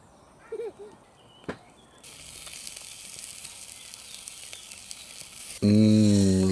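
Sausages sizzling in a pan over a small gas burner inside a VW camper van, a steady broadband hiss rising partway through, with a couple of brief knocks early and a loud sustained tone at the end.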